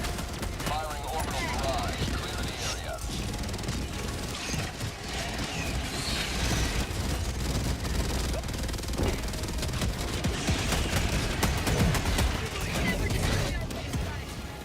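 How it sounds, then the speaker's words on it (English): Orbital barrage in the video game Helldivers 2 fires a dense, continuous roll of explosions and gunfire-like bursts with mechanical clatter, loud and sustained throughout, with voices talking over it. "Firing orbital barrage. Clear the area."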